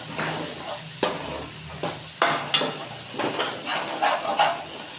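Onions frying in a pan with ginger garlic paste stirred in, a steady low sizzle broken by sharp scraping and clinking strokes of a spoon against the pan at irregular intervals.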